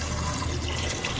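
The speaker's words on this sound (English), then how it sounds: "Now we would add the water" Water poured into a pot of chickpeas (chana) before pressure cooking, a short continuous splashing fill heard close up and alone.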